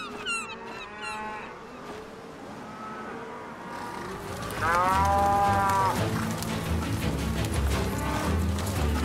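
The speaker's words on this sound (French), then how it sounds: "Devez-vous vraiment noter le nombre de vaches que nous conduisons au marché au bétail de Montoret" Cattle being driven to the Montoret livestock market moo repeatedly in an animated scene, several loud, drawn-out calls overlapping, then a heavier, busier rumble of movement rising beneath the herd.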